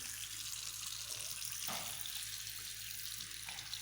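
Water runs steadily from a tap while someone rinses their mouth, a close, even splashing stream with a brief louder gush midway.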